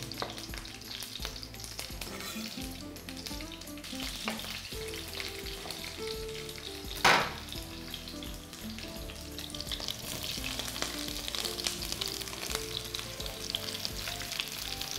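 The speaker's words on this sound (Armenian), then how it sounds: "Կտապակենք նաև սունք պորտոբելո։" Portobello mushrooms fry in a pan with a soft, continuous sizzle under background music, and one sharp clatter sounds midway.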